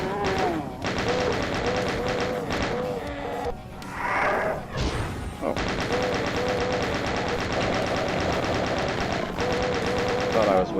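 Revenant firing a rocket in the video game Doom, amid dense, loud game action with gunfire-like bursts, music and crashes running nearly continuously.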